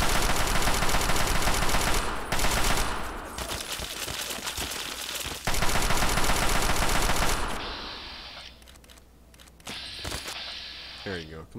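Gunfire in the video game Fallout 3, including a sniper rifle, comes as a dense, loud barrage of shots and blasts over a continuous game soundtrack, easing off toward the end.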